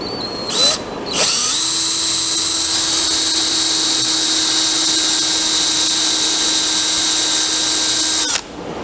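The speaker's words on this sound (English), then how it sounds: "so let me countersink that." A power drill spins up and runs at a steady high whine while countersinking a screw hole in wood for a stackable shelf, loud and close, then stops abruptly near the end.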